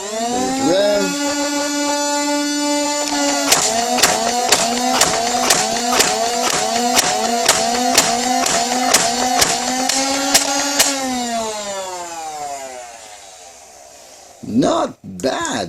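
A Holiky M416 select-fire foam blaster revs its flywheel motor with a rising whine, then fires in full auto as a rapid, even string of about a dozen sharp clicks over the hum before the motor spins down.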